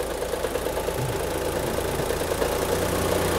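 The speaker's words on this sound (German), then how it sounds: "Ja, er rappelt ganz schön, wenn der Klimakompressor reingeht." An Opel engine idles and rattles as the air conditioning compressor engages, giving a steady, close, continuous knocking vibration with no talk over it.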